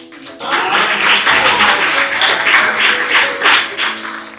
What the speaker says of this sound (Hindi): जो पहाड़ों से हैं वो तो तालियां बजाएं, और जो नहीं है वो भी बजा सकते हैं